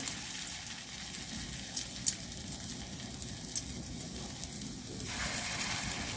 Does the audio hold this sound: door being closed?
no